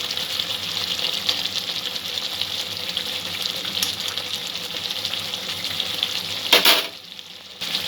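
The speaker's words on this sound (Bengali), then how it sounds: "নারকেলের দুধ দিয়ে খুব বেশি সময় ফোটানোর দরকার নেই।" Egg curry in coconut milk bubbles and sizzles steadily in a pan, a dense, even hiss near and alone, with a brief louder clatter near the end before it quietens.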